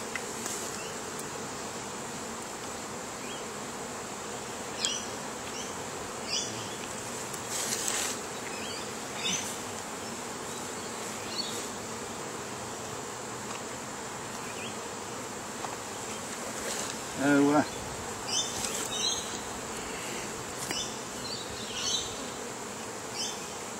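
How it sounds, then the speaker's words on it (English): Honey bees buzz in a dense, steady drone from an open hive during swarm control, heard close and continuous, with occasional soft knocks from handling the equipment. "You can see all the bees up in the lid"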